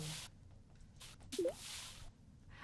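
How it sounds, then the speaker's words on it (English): A single short bubbly plop from a video game as an item is dropped into water, brief and faint, arriving mid-clip over a quiet background. "The next sound is when you drop an item in water."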